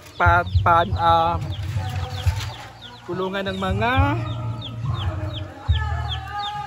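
Several chickens cluck and squawk close by in overlapping bursts inside a coop shared with ducks and turkeys, with a rooster-like call rising midway, while a person speaks briefly amid the birds.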